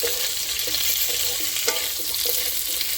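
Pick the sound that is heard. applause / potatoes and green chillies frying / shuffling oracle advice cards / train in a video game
potatoes and green chillies frying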